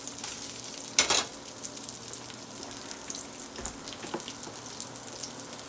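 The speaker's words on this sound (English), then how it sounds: "I'm going to flip my egg a little bit." An egg fries in a pan with a soft, steady sizzle and crackle, broken early by a sharp clatter as it is flipped, then settling back into a low continuous hiss, close with no talking.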